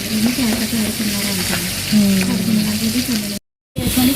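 Onions fry loudly in hot oil for gongura chicken, a close, continuous sizzle with bubbling crackle and a low hum, cut by a short silence before the frying resumes.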